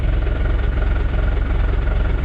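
A 6x6 Land Rover Perentie engine running at idle, a steady close low rumble with an even pulsing throb and no talk.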